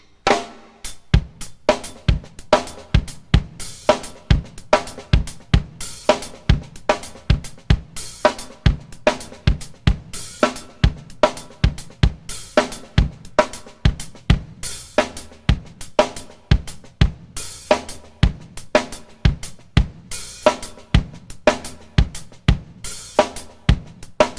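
A solo drum kit plays a solo-section groove, tight, evenly spaced sharp hits repeating in a busy one-bar pattern for over twenty seconds, loud and close with no talking.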